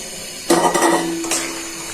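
Potatoes for Bogura-style alu ghati are poured into a hot pan with a sudden clattering thud and a rattling tumble that lasts about half a second. A second, smaller clatter follows, then a hissing sizzle lingers.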